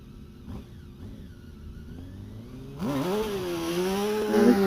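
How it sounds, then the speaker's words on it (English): A Reynard hillclimb race car with a V8 engine built from two Yamaha R1 motorcycle engines launches at Loton Park, starting as a distant whine that turns into a loud, close, rising high-revving scream. "Fraser Davis away from the start line in the Reynard with the TKD Y V8 engine"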